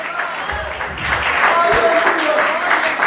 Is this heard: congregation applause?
yes